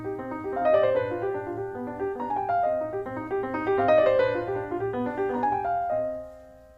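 Solo piano plays a classical-era closing theme by Haydn in question-and-answer phrases, bright melodic lines over steady chords, moderately loud and close, ending with a softening final chord.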